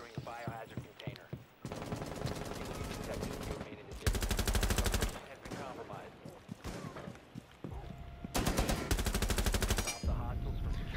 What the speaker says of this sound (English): How the fuck did they get on the machine gun?